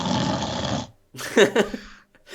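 A voice imitates snoring: a long rasping inhale followed by a rougher, gurgling exhale with brief pauses, loud and close.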